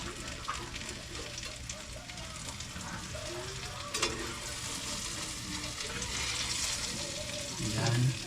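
Tortang talong, an eggplant omelette, sizzles in a frying pan with a steady crackling hiss that swells slightly toward the end, while a voice talks intermittently over it.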